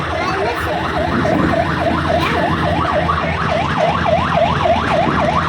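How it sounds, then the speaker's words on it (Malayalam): An ambulance siren wails on a highway in steady, rapid rising-and-falling cycles, loud and continuous over road noise. "ആംബുലൻസ് വരുന്നുണ്ട്."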